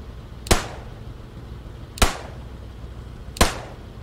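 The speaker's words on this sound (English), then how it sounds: "This pistol reminds me of the Bulldog pistol that the British and Americans" Pistol fire in a video game: three sharp single shots, evenly spaced about a second and a half apart, loud and close over a steady low background hum.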